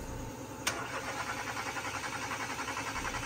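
A Nissan Almera engine cranks without catching, the starter churning in a steady rhythmic pulse that follows a brief sharp click, with no voices.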